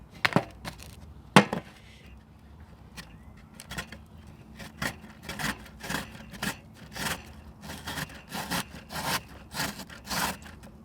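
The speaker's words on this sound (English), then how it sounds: "Now that the tomatoes are cut, I'm just gonna grate them." Tomatoes are rubbed against a grater at a campsite, giving rhythmic rasping strokes, irregular at first, then regular and close, with a couple of sharp knocks early on.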